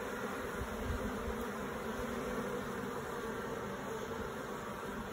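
Honeybees from a nuc being installed into a long hive drone in a steady, close, continuous buzz that holds evenly throughout, with no voices.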